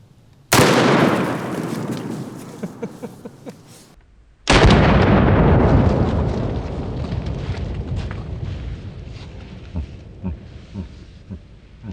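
Two sharp, very loud handgun shots fired with Hornady Critical Defense rounds outdoors, spaced about four seconds apart, each followed by a long decaying echo, with faint clicks and small sounds afterward.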